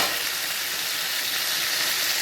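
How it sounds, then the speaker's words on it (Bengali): Potato and raw green banana pieces fry in hot oil for a Bengali shukto, a steady, bright sizzle and hiss that holds evenly throughout with no pauses. "একটু আলু, কাঁচকলা লাল লাল করে ভেজে নেব।"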